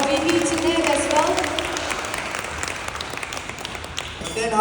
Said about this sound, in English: let's give a round of applause to our VP Tinette as well.